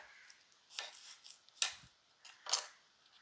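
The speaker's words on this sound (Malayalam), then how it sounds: "കനം കുറച്ച് വട്ടത്തി ഇങ്ങനെ അരിഞ്ഞെടുക്കാം" A knife cuts an ingredient into thin rounds on a board, giving three or four short, crisp slicing strokes, close and fairly faint, with quiet gaps between them.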